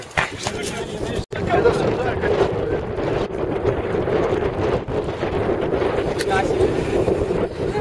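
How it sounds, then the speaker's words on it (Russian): Strong headwind roars and buffets the microphone in a continuous, loud rumble in the Negev desert, with a brief dropout early on. "Ветер сегодня сносит, и причем, как назло, встречный."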